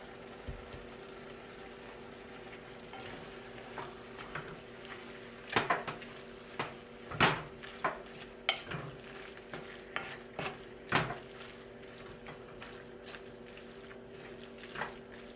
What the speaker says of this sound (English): Want my beef to cook with my seasoning.